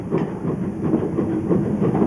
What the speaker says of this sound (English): This luxury train makes stops in 7 cities in 1 week, in style.